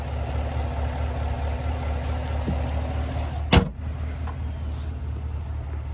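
Low, steady rumble of the 6.2-litre V8 of a 2026 GMC Yukon Denali Reserve idling nearby, punctuated by one sharp knock or thump midway.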